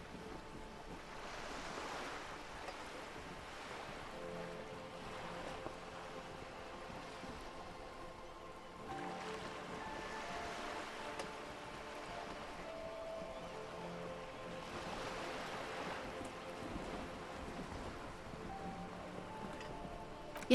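Sea waves roll in the Bay of Revachol in the video game Disco Elysium, a continuous wash of surf with slow swells every few seconds under soft wind, with no speech.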